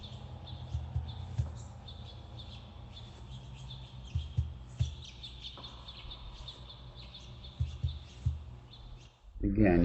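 Layered sound bed of chirping birds over soft hairbrush wisps and a low, steady heartbeat pulse, the thumps repeating at intervals beneath bright tweets, all fairly quiet, ending with a louder low rumble.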